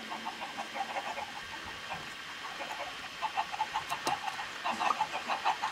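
Minecraft chickens clucking in short repeated bursts, growing busier toward the end, over a steady background hum.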